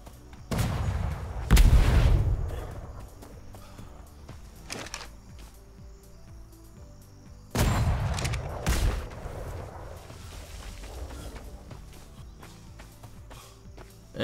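Swivel cannons boom in the Atlas pirate game: two clusters of loud, deep blasts a few seconds apart, each with a rolling rumble, separated by a quieter stretch with faint scattered shots.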